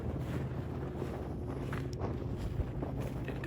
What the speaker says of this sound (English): And I apologize if it's windy today